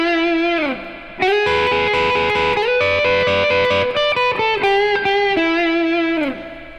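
An overdriven electric guitar plays a short blues lick, with sliding bends, picked notes and sustained chords ringing loud and close with effects coloring the tone, and no talking over it.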